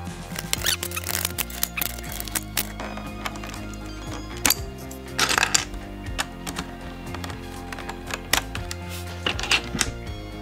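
Keycaps pried one by one off a mechanical keyboard during cleaning, a series of sharp plastic clicks and snaps at irregular intervals over low background music.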